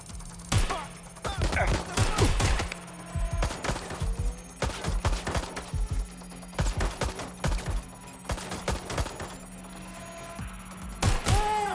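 Gunfire from Watch Dogs: Legion, with repeated sharp gunshots and short bursts clustered through the scene, loud and close, over a steady low game hum, with occasional voices in the mix.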